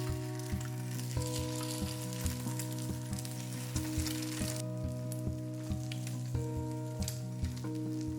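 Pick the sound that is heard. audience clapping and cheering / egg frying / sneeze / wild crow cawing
egg frying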